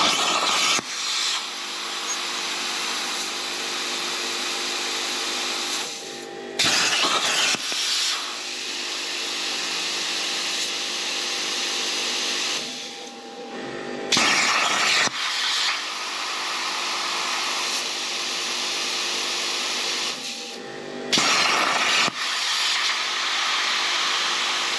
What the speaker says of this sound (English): let's try this out and see how well the Firstess CT2050 works with a CNC plasma cutter and that built-in air compressor